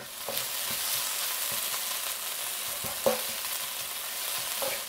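Chilies, minced garlic, ginger and Sichuan pepper stir-fry in a wok with a steady bright sizzle, punctuated by occasional clicks and scrapes of stirring.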